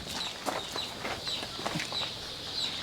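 Native Nati Koli chickens on a poultry farm cluck in short, scattered bursts over a steady background hiss. The birds sound moderately close and fairly quiet, with no talk.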